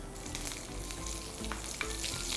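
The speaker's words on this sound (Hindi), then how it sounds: "इसमें हम डालेंगे जीरा, थोड़ी सी हरी मिर्च" Cumin seeds and green chili sizzle in hot oil, giving a continuous, fairly faint frying crackle with small pops and a stirring scrape, and no voices.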